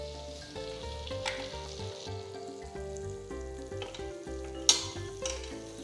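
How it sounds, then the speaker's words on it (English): Oil and butter sizzle in a wide pan with a steady crackle under soft background music, and one sharp clink near the end. "To a nice wide pan, add 1 tablespoon of oil"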